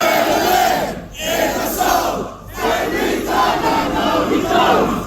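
A crowd at a WWE meet and greet event shouts in unison in loud, surging waves, with two brief dips between the chants.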